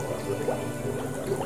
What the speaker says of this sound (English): a bubbling reaction occurred.